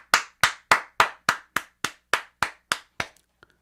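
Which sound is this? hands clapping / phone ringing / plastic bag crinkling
hands clapping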